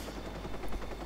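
A helicopter in Watch Dogs gives a rapid, steady rotor chop, with a low thumping pulse and a broad engine whine throughout, heard alone at moderate level.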